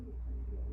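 Racing pigeons in a breeding loft, young birds of a race team, coo softly and steadily at close range, a low continuous murmur with no talk over it.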